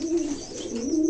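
An old pigeon in Bangladesh cooing, a short close-up throaty coo with a soft rolling pulse, alone without any talk.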